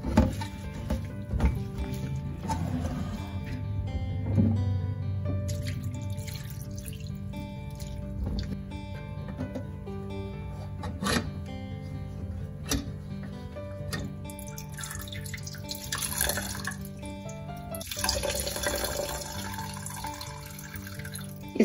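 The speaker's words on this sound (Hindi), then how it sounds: "अब हम इस छेना को अच्छे से वॉश करेंगे ताकि विनेगर का टेस्ट निकल जाए।" Tap water runs steadily into a sink while chhena (fresh curdled milk cheese) is rinsed to wash out vinegar, with splashing, dripping and shifting flow as the curds are handled, no talk.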